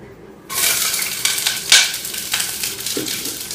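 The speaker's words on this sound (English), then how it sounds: "You're going to saute that in a hot pan in a little bit of oil." Sliced onion sizzles in a little oil in a hot pan, a bright hiss rising suddenly after a quiet start, with stirring scrapes and small pops, up close.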